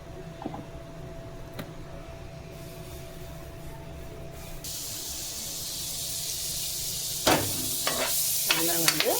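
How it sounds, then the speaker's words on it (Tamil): Butter melting in a kadai gives a low, steady sizzle that swells to a brighter hiss partway through, with a few clinks near the end and no voices. "கடாயில் வந்து கொஞ்சம் பட்டர் போட்டுக்கலாம்."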